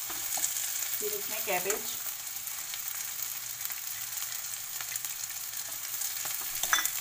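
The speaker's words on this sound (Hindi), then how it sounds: "ये सब फ्राई कर लेना है आपको।" Cabbage and yellow and red bell peppers stir-frying over a high flame, a steady broadband sizzle with a brief spoken phrase near the start and a few scraping stirs.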